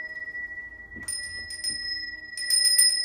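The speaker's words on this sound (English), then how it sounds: "This is a bell. It's a brass bell" A brass hand bell rings with a sustained, shimmering tone, struck again several times so the ringing builds and overlaps, clear and fairly close.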